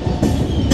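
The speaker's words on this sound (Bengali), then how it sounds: "প্ল্যাটফর্মে ঢুকে যাচ্ছে আমাদের ট্রেন।" The Madhumati Express enters the platform at Padma station in Bangladesh, producing a brief, loud, close rumble of rolling wheels with a hint of clatter.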